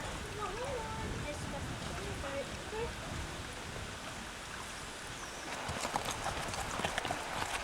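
A horse near a gate outdoors moves with faint, irregular hoof clops over a steady hiss of wind or water, buried in background noise, with voices talking in the distance.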